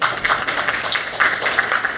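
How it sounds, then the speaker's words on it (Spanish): An audience at a medical science and innovation congress applauds to welcome a doctor: steady, moderately loud clapping from many hands, continuous throughout. "Recibámoslo con fuertes aplausos"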